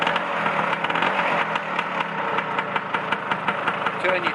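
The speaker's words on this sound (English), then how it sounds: "start with no throttle, and then give it a little rev." A Lambretta scooter engine idles after a kick start with the choke on, a close, steady mid-pitched putter with a lumpy, knocking rhythm and light vibration throughout.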